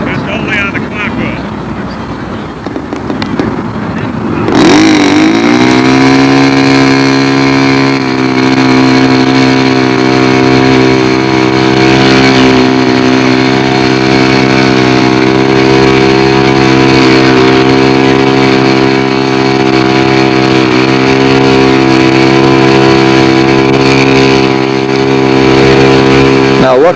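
A model airplane engine at a fall flying contest starts after a few seconds of quiet, then runs loud and steady at high revs with a strong buzzing whine that holds nearly unchanged to the end.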